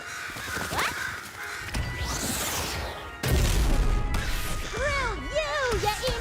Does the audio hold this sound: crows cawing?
yes